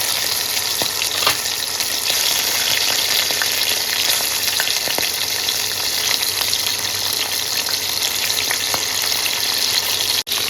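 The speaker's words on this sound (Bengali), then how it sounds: "এবার এক এক করে হলুদ ও লবণ মাখানো মাছগুলো দিয়ে হালকা ভেজে তুলে দেবো" Hilsa fish pieces coated in turmeric and salt sizzle and crackle in hot oil, a loud continuous frying hiss with scattered sharp pops and no talking.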